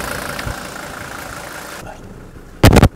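A car's diesel engine runs in gear under load during a blow-by test, giving a steady rumbling drone that drops back abruptly and ends with a few loud, sharp bursts.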